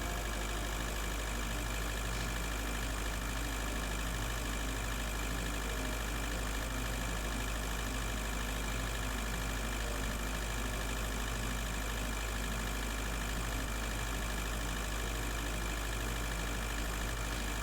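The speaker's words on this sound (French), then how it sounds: "Putain, ce bruit de tracteur, c'est horrible." A steady, tractor-like engine drone from the video game Breathedge runs continuously and loud for the whole stretch, unbroken and without voices.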